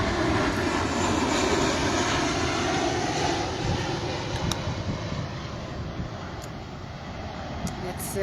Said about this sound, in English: let's just let this plane go over and take a little break